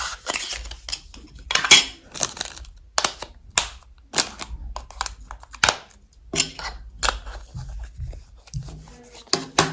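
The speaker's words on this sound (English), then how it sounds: "This is how you put the batteries in." Batteries pushed into a Fire TV Stick Lite remote, a string of close, sharp plastic clicks and taps with irregular spacing and brief pauses between them.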